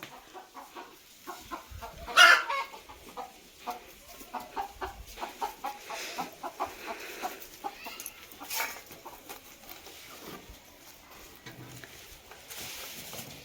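A hen clucks in short, repeated bursts after laying an egg, with one louder squawk early on, fairly close in a quiet setting with faint voices.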